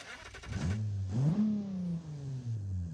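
A BeamNG video game car engine fires up and revs, climbing to a loud roar and then holding a steady, gradually dropping drone.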